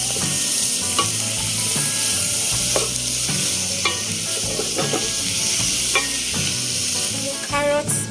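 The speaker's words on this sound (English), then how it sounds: "so when they start turning translucent, you add in your carrots." Carrots frying in a pan with a steady loud sizzle throughout, while a utensil stirs and scrapes at intervals, close by and with no talking.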